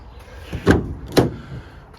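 Two sharp metallic clunks about half a second apart as the door handle of a Renault Master crew-cab van is tried, close by and alone against faint background.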